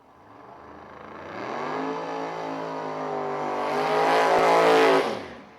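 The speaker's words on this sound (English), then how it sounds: "So good burnout there for Marty Chance" A 1987 Ford Mustang drag race car does a burnout in the X275 radial class, its loud engine revving and building in pitch over several seconds with tire noise swelling before cutting off near the end.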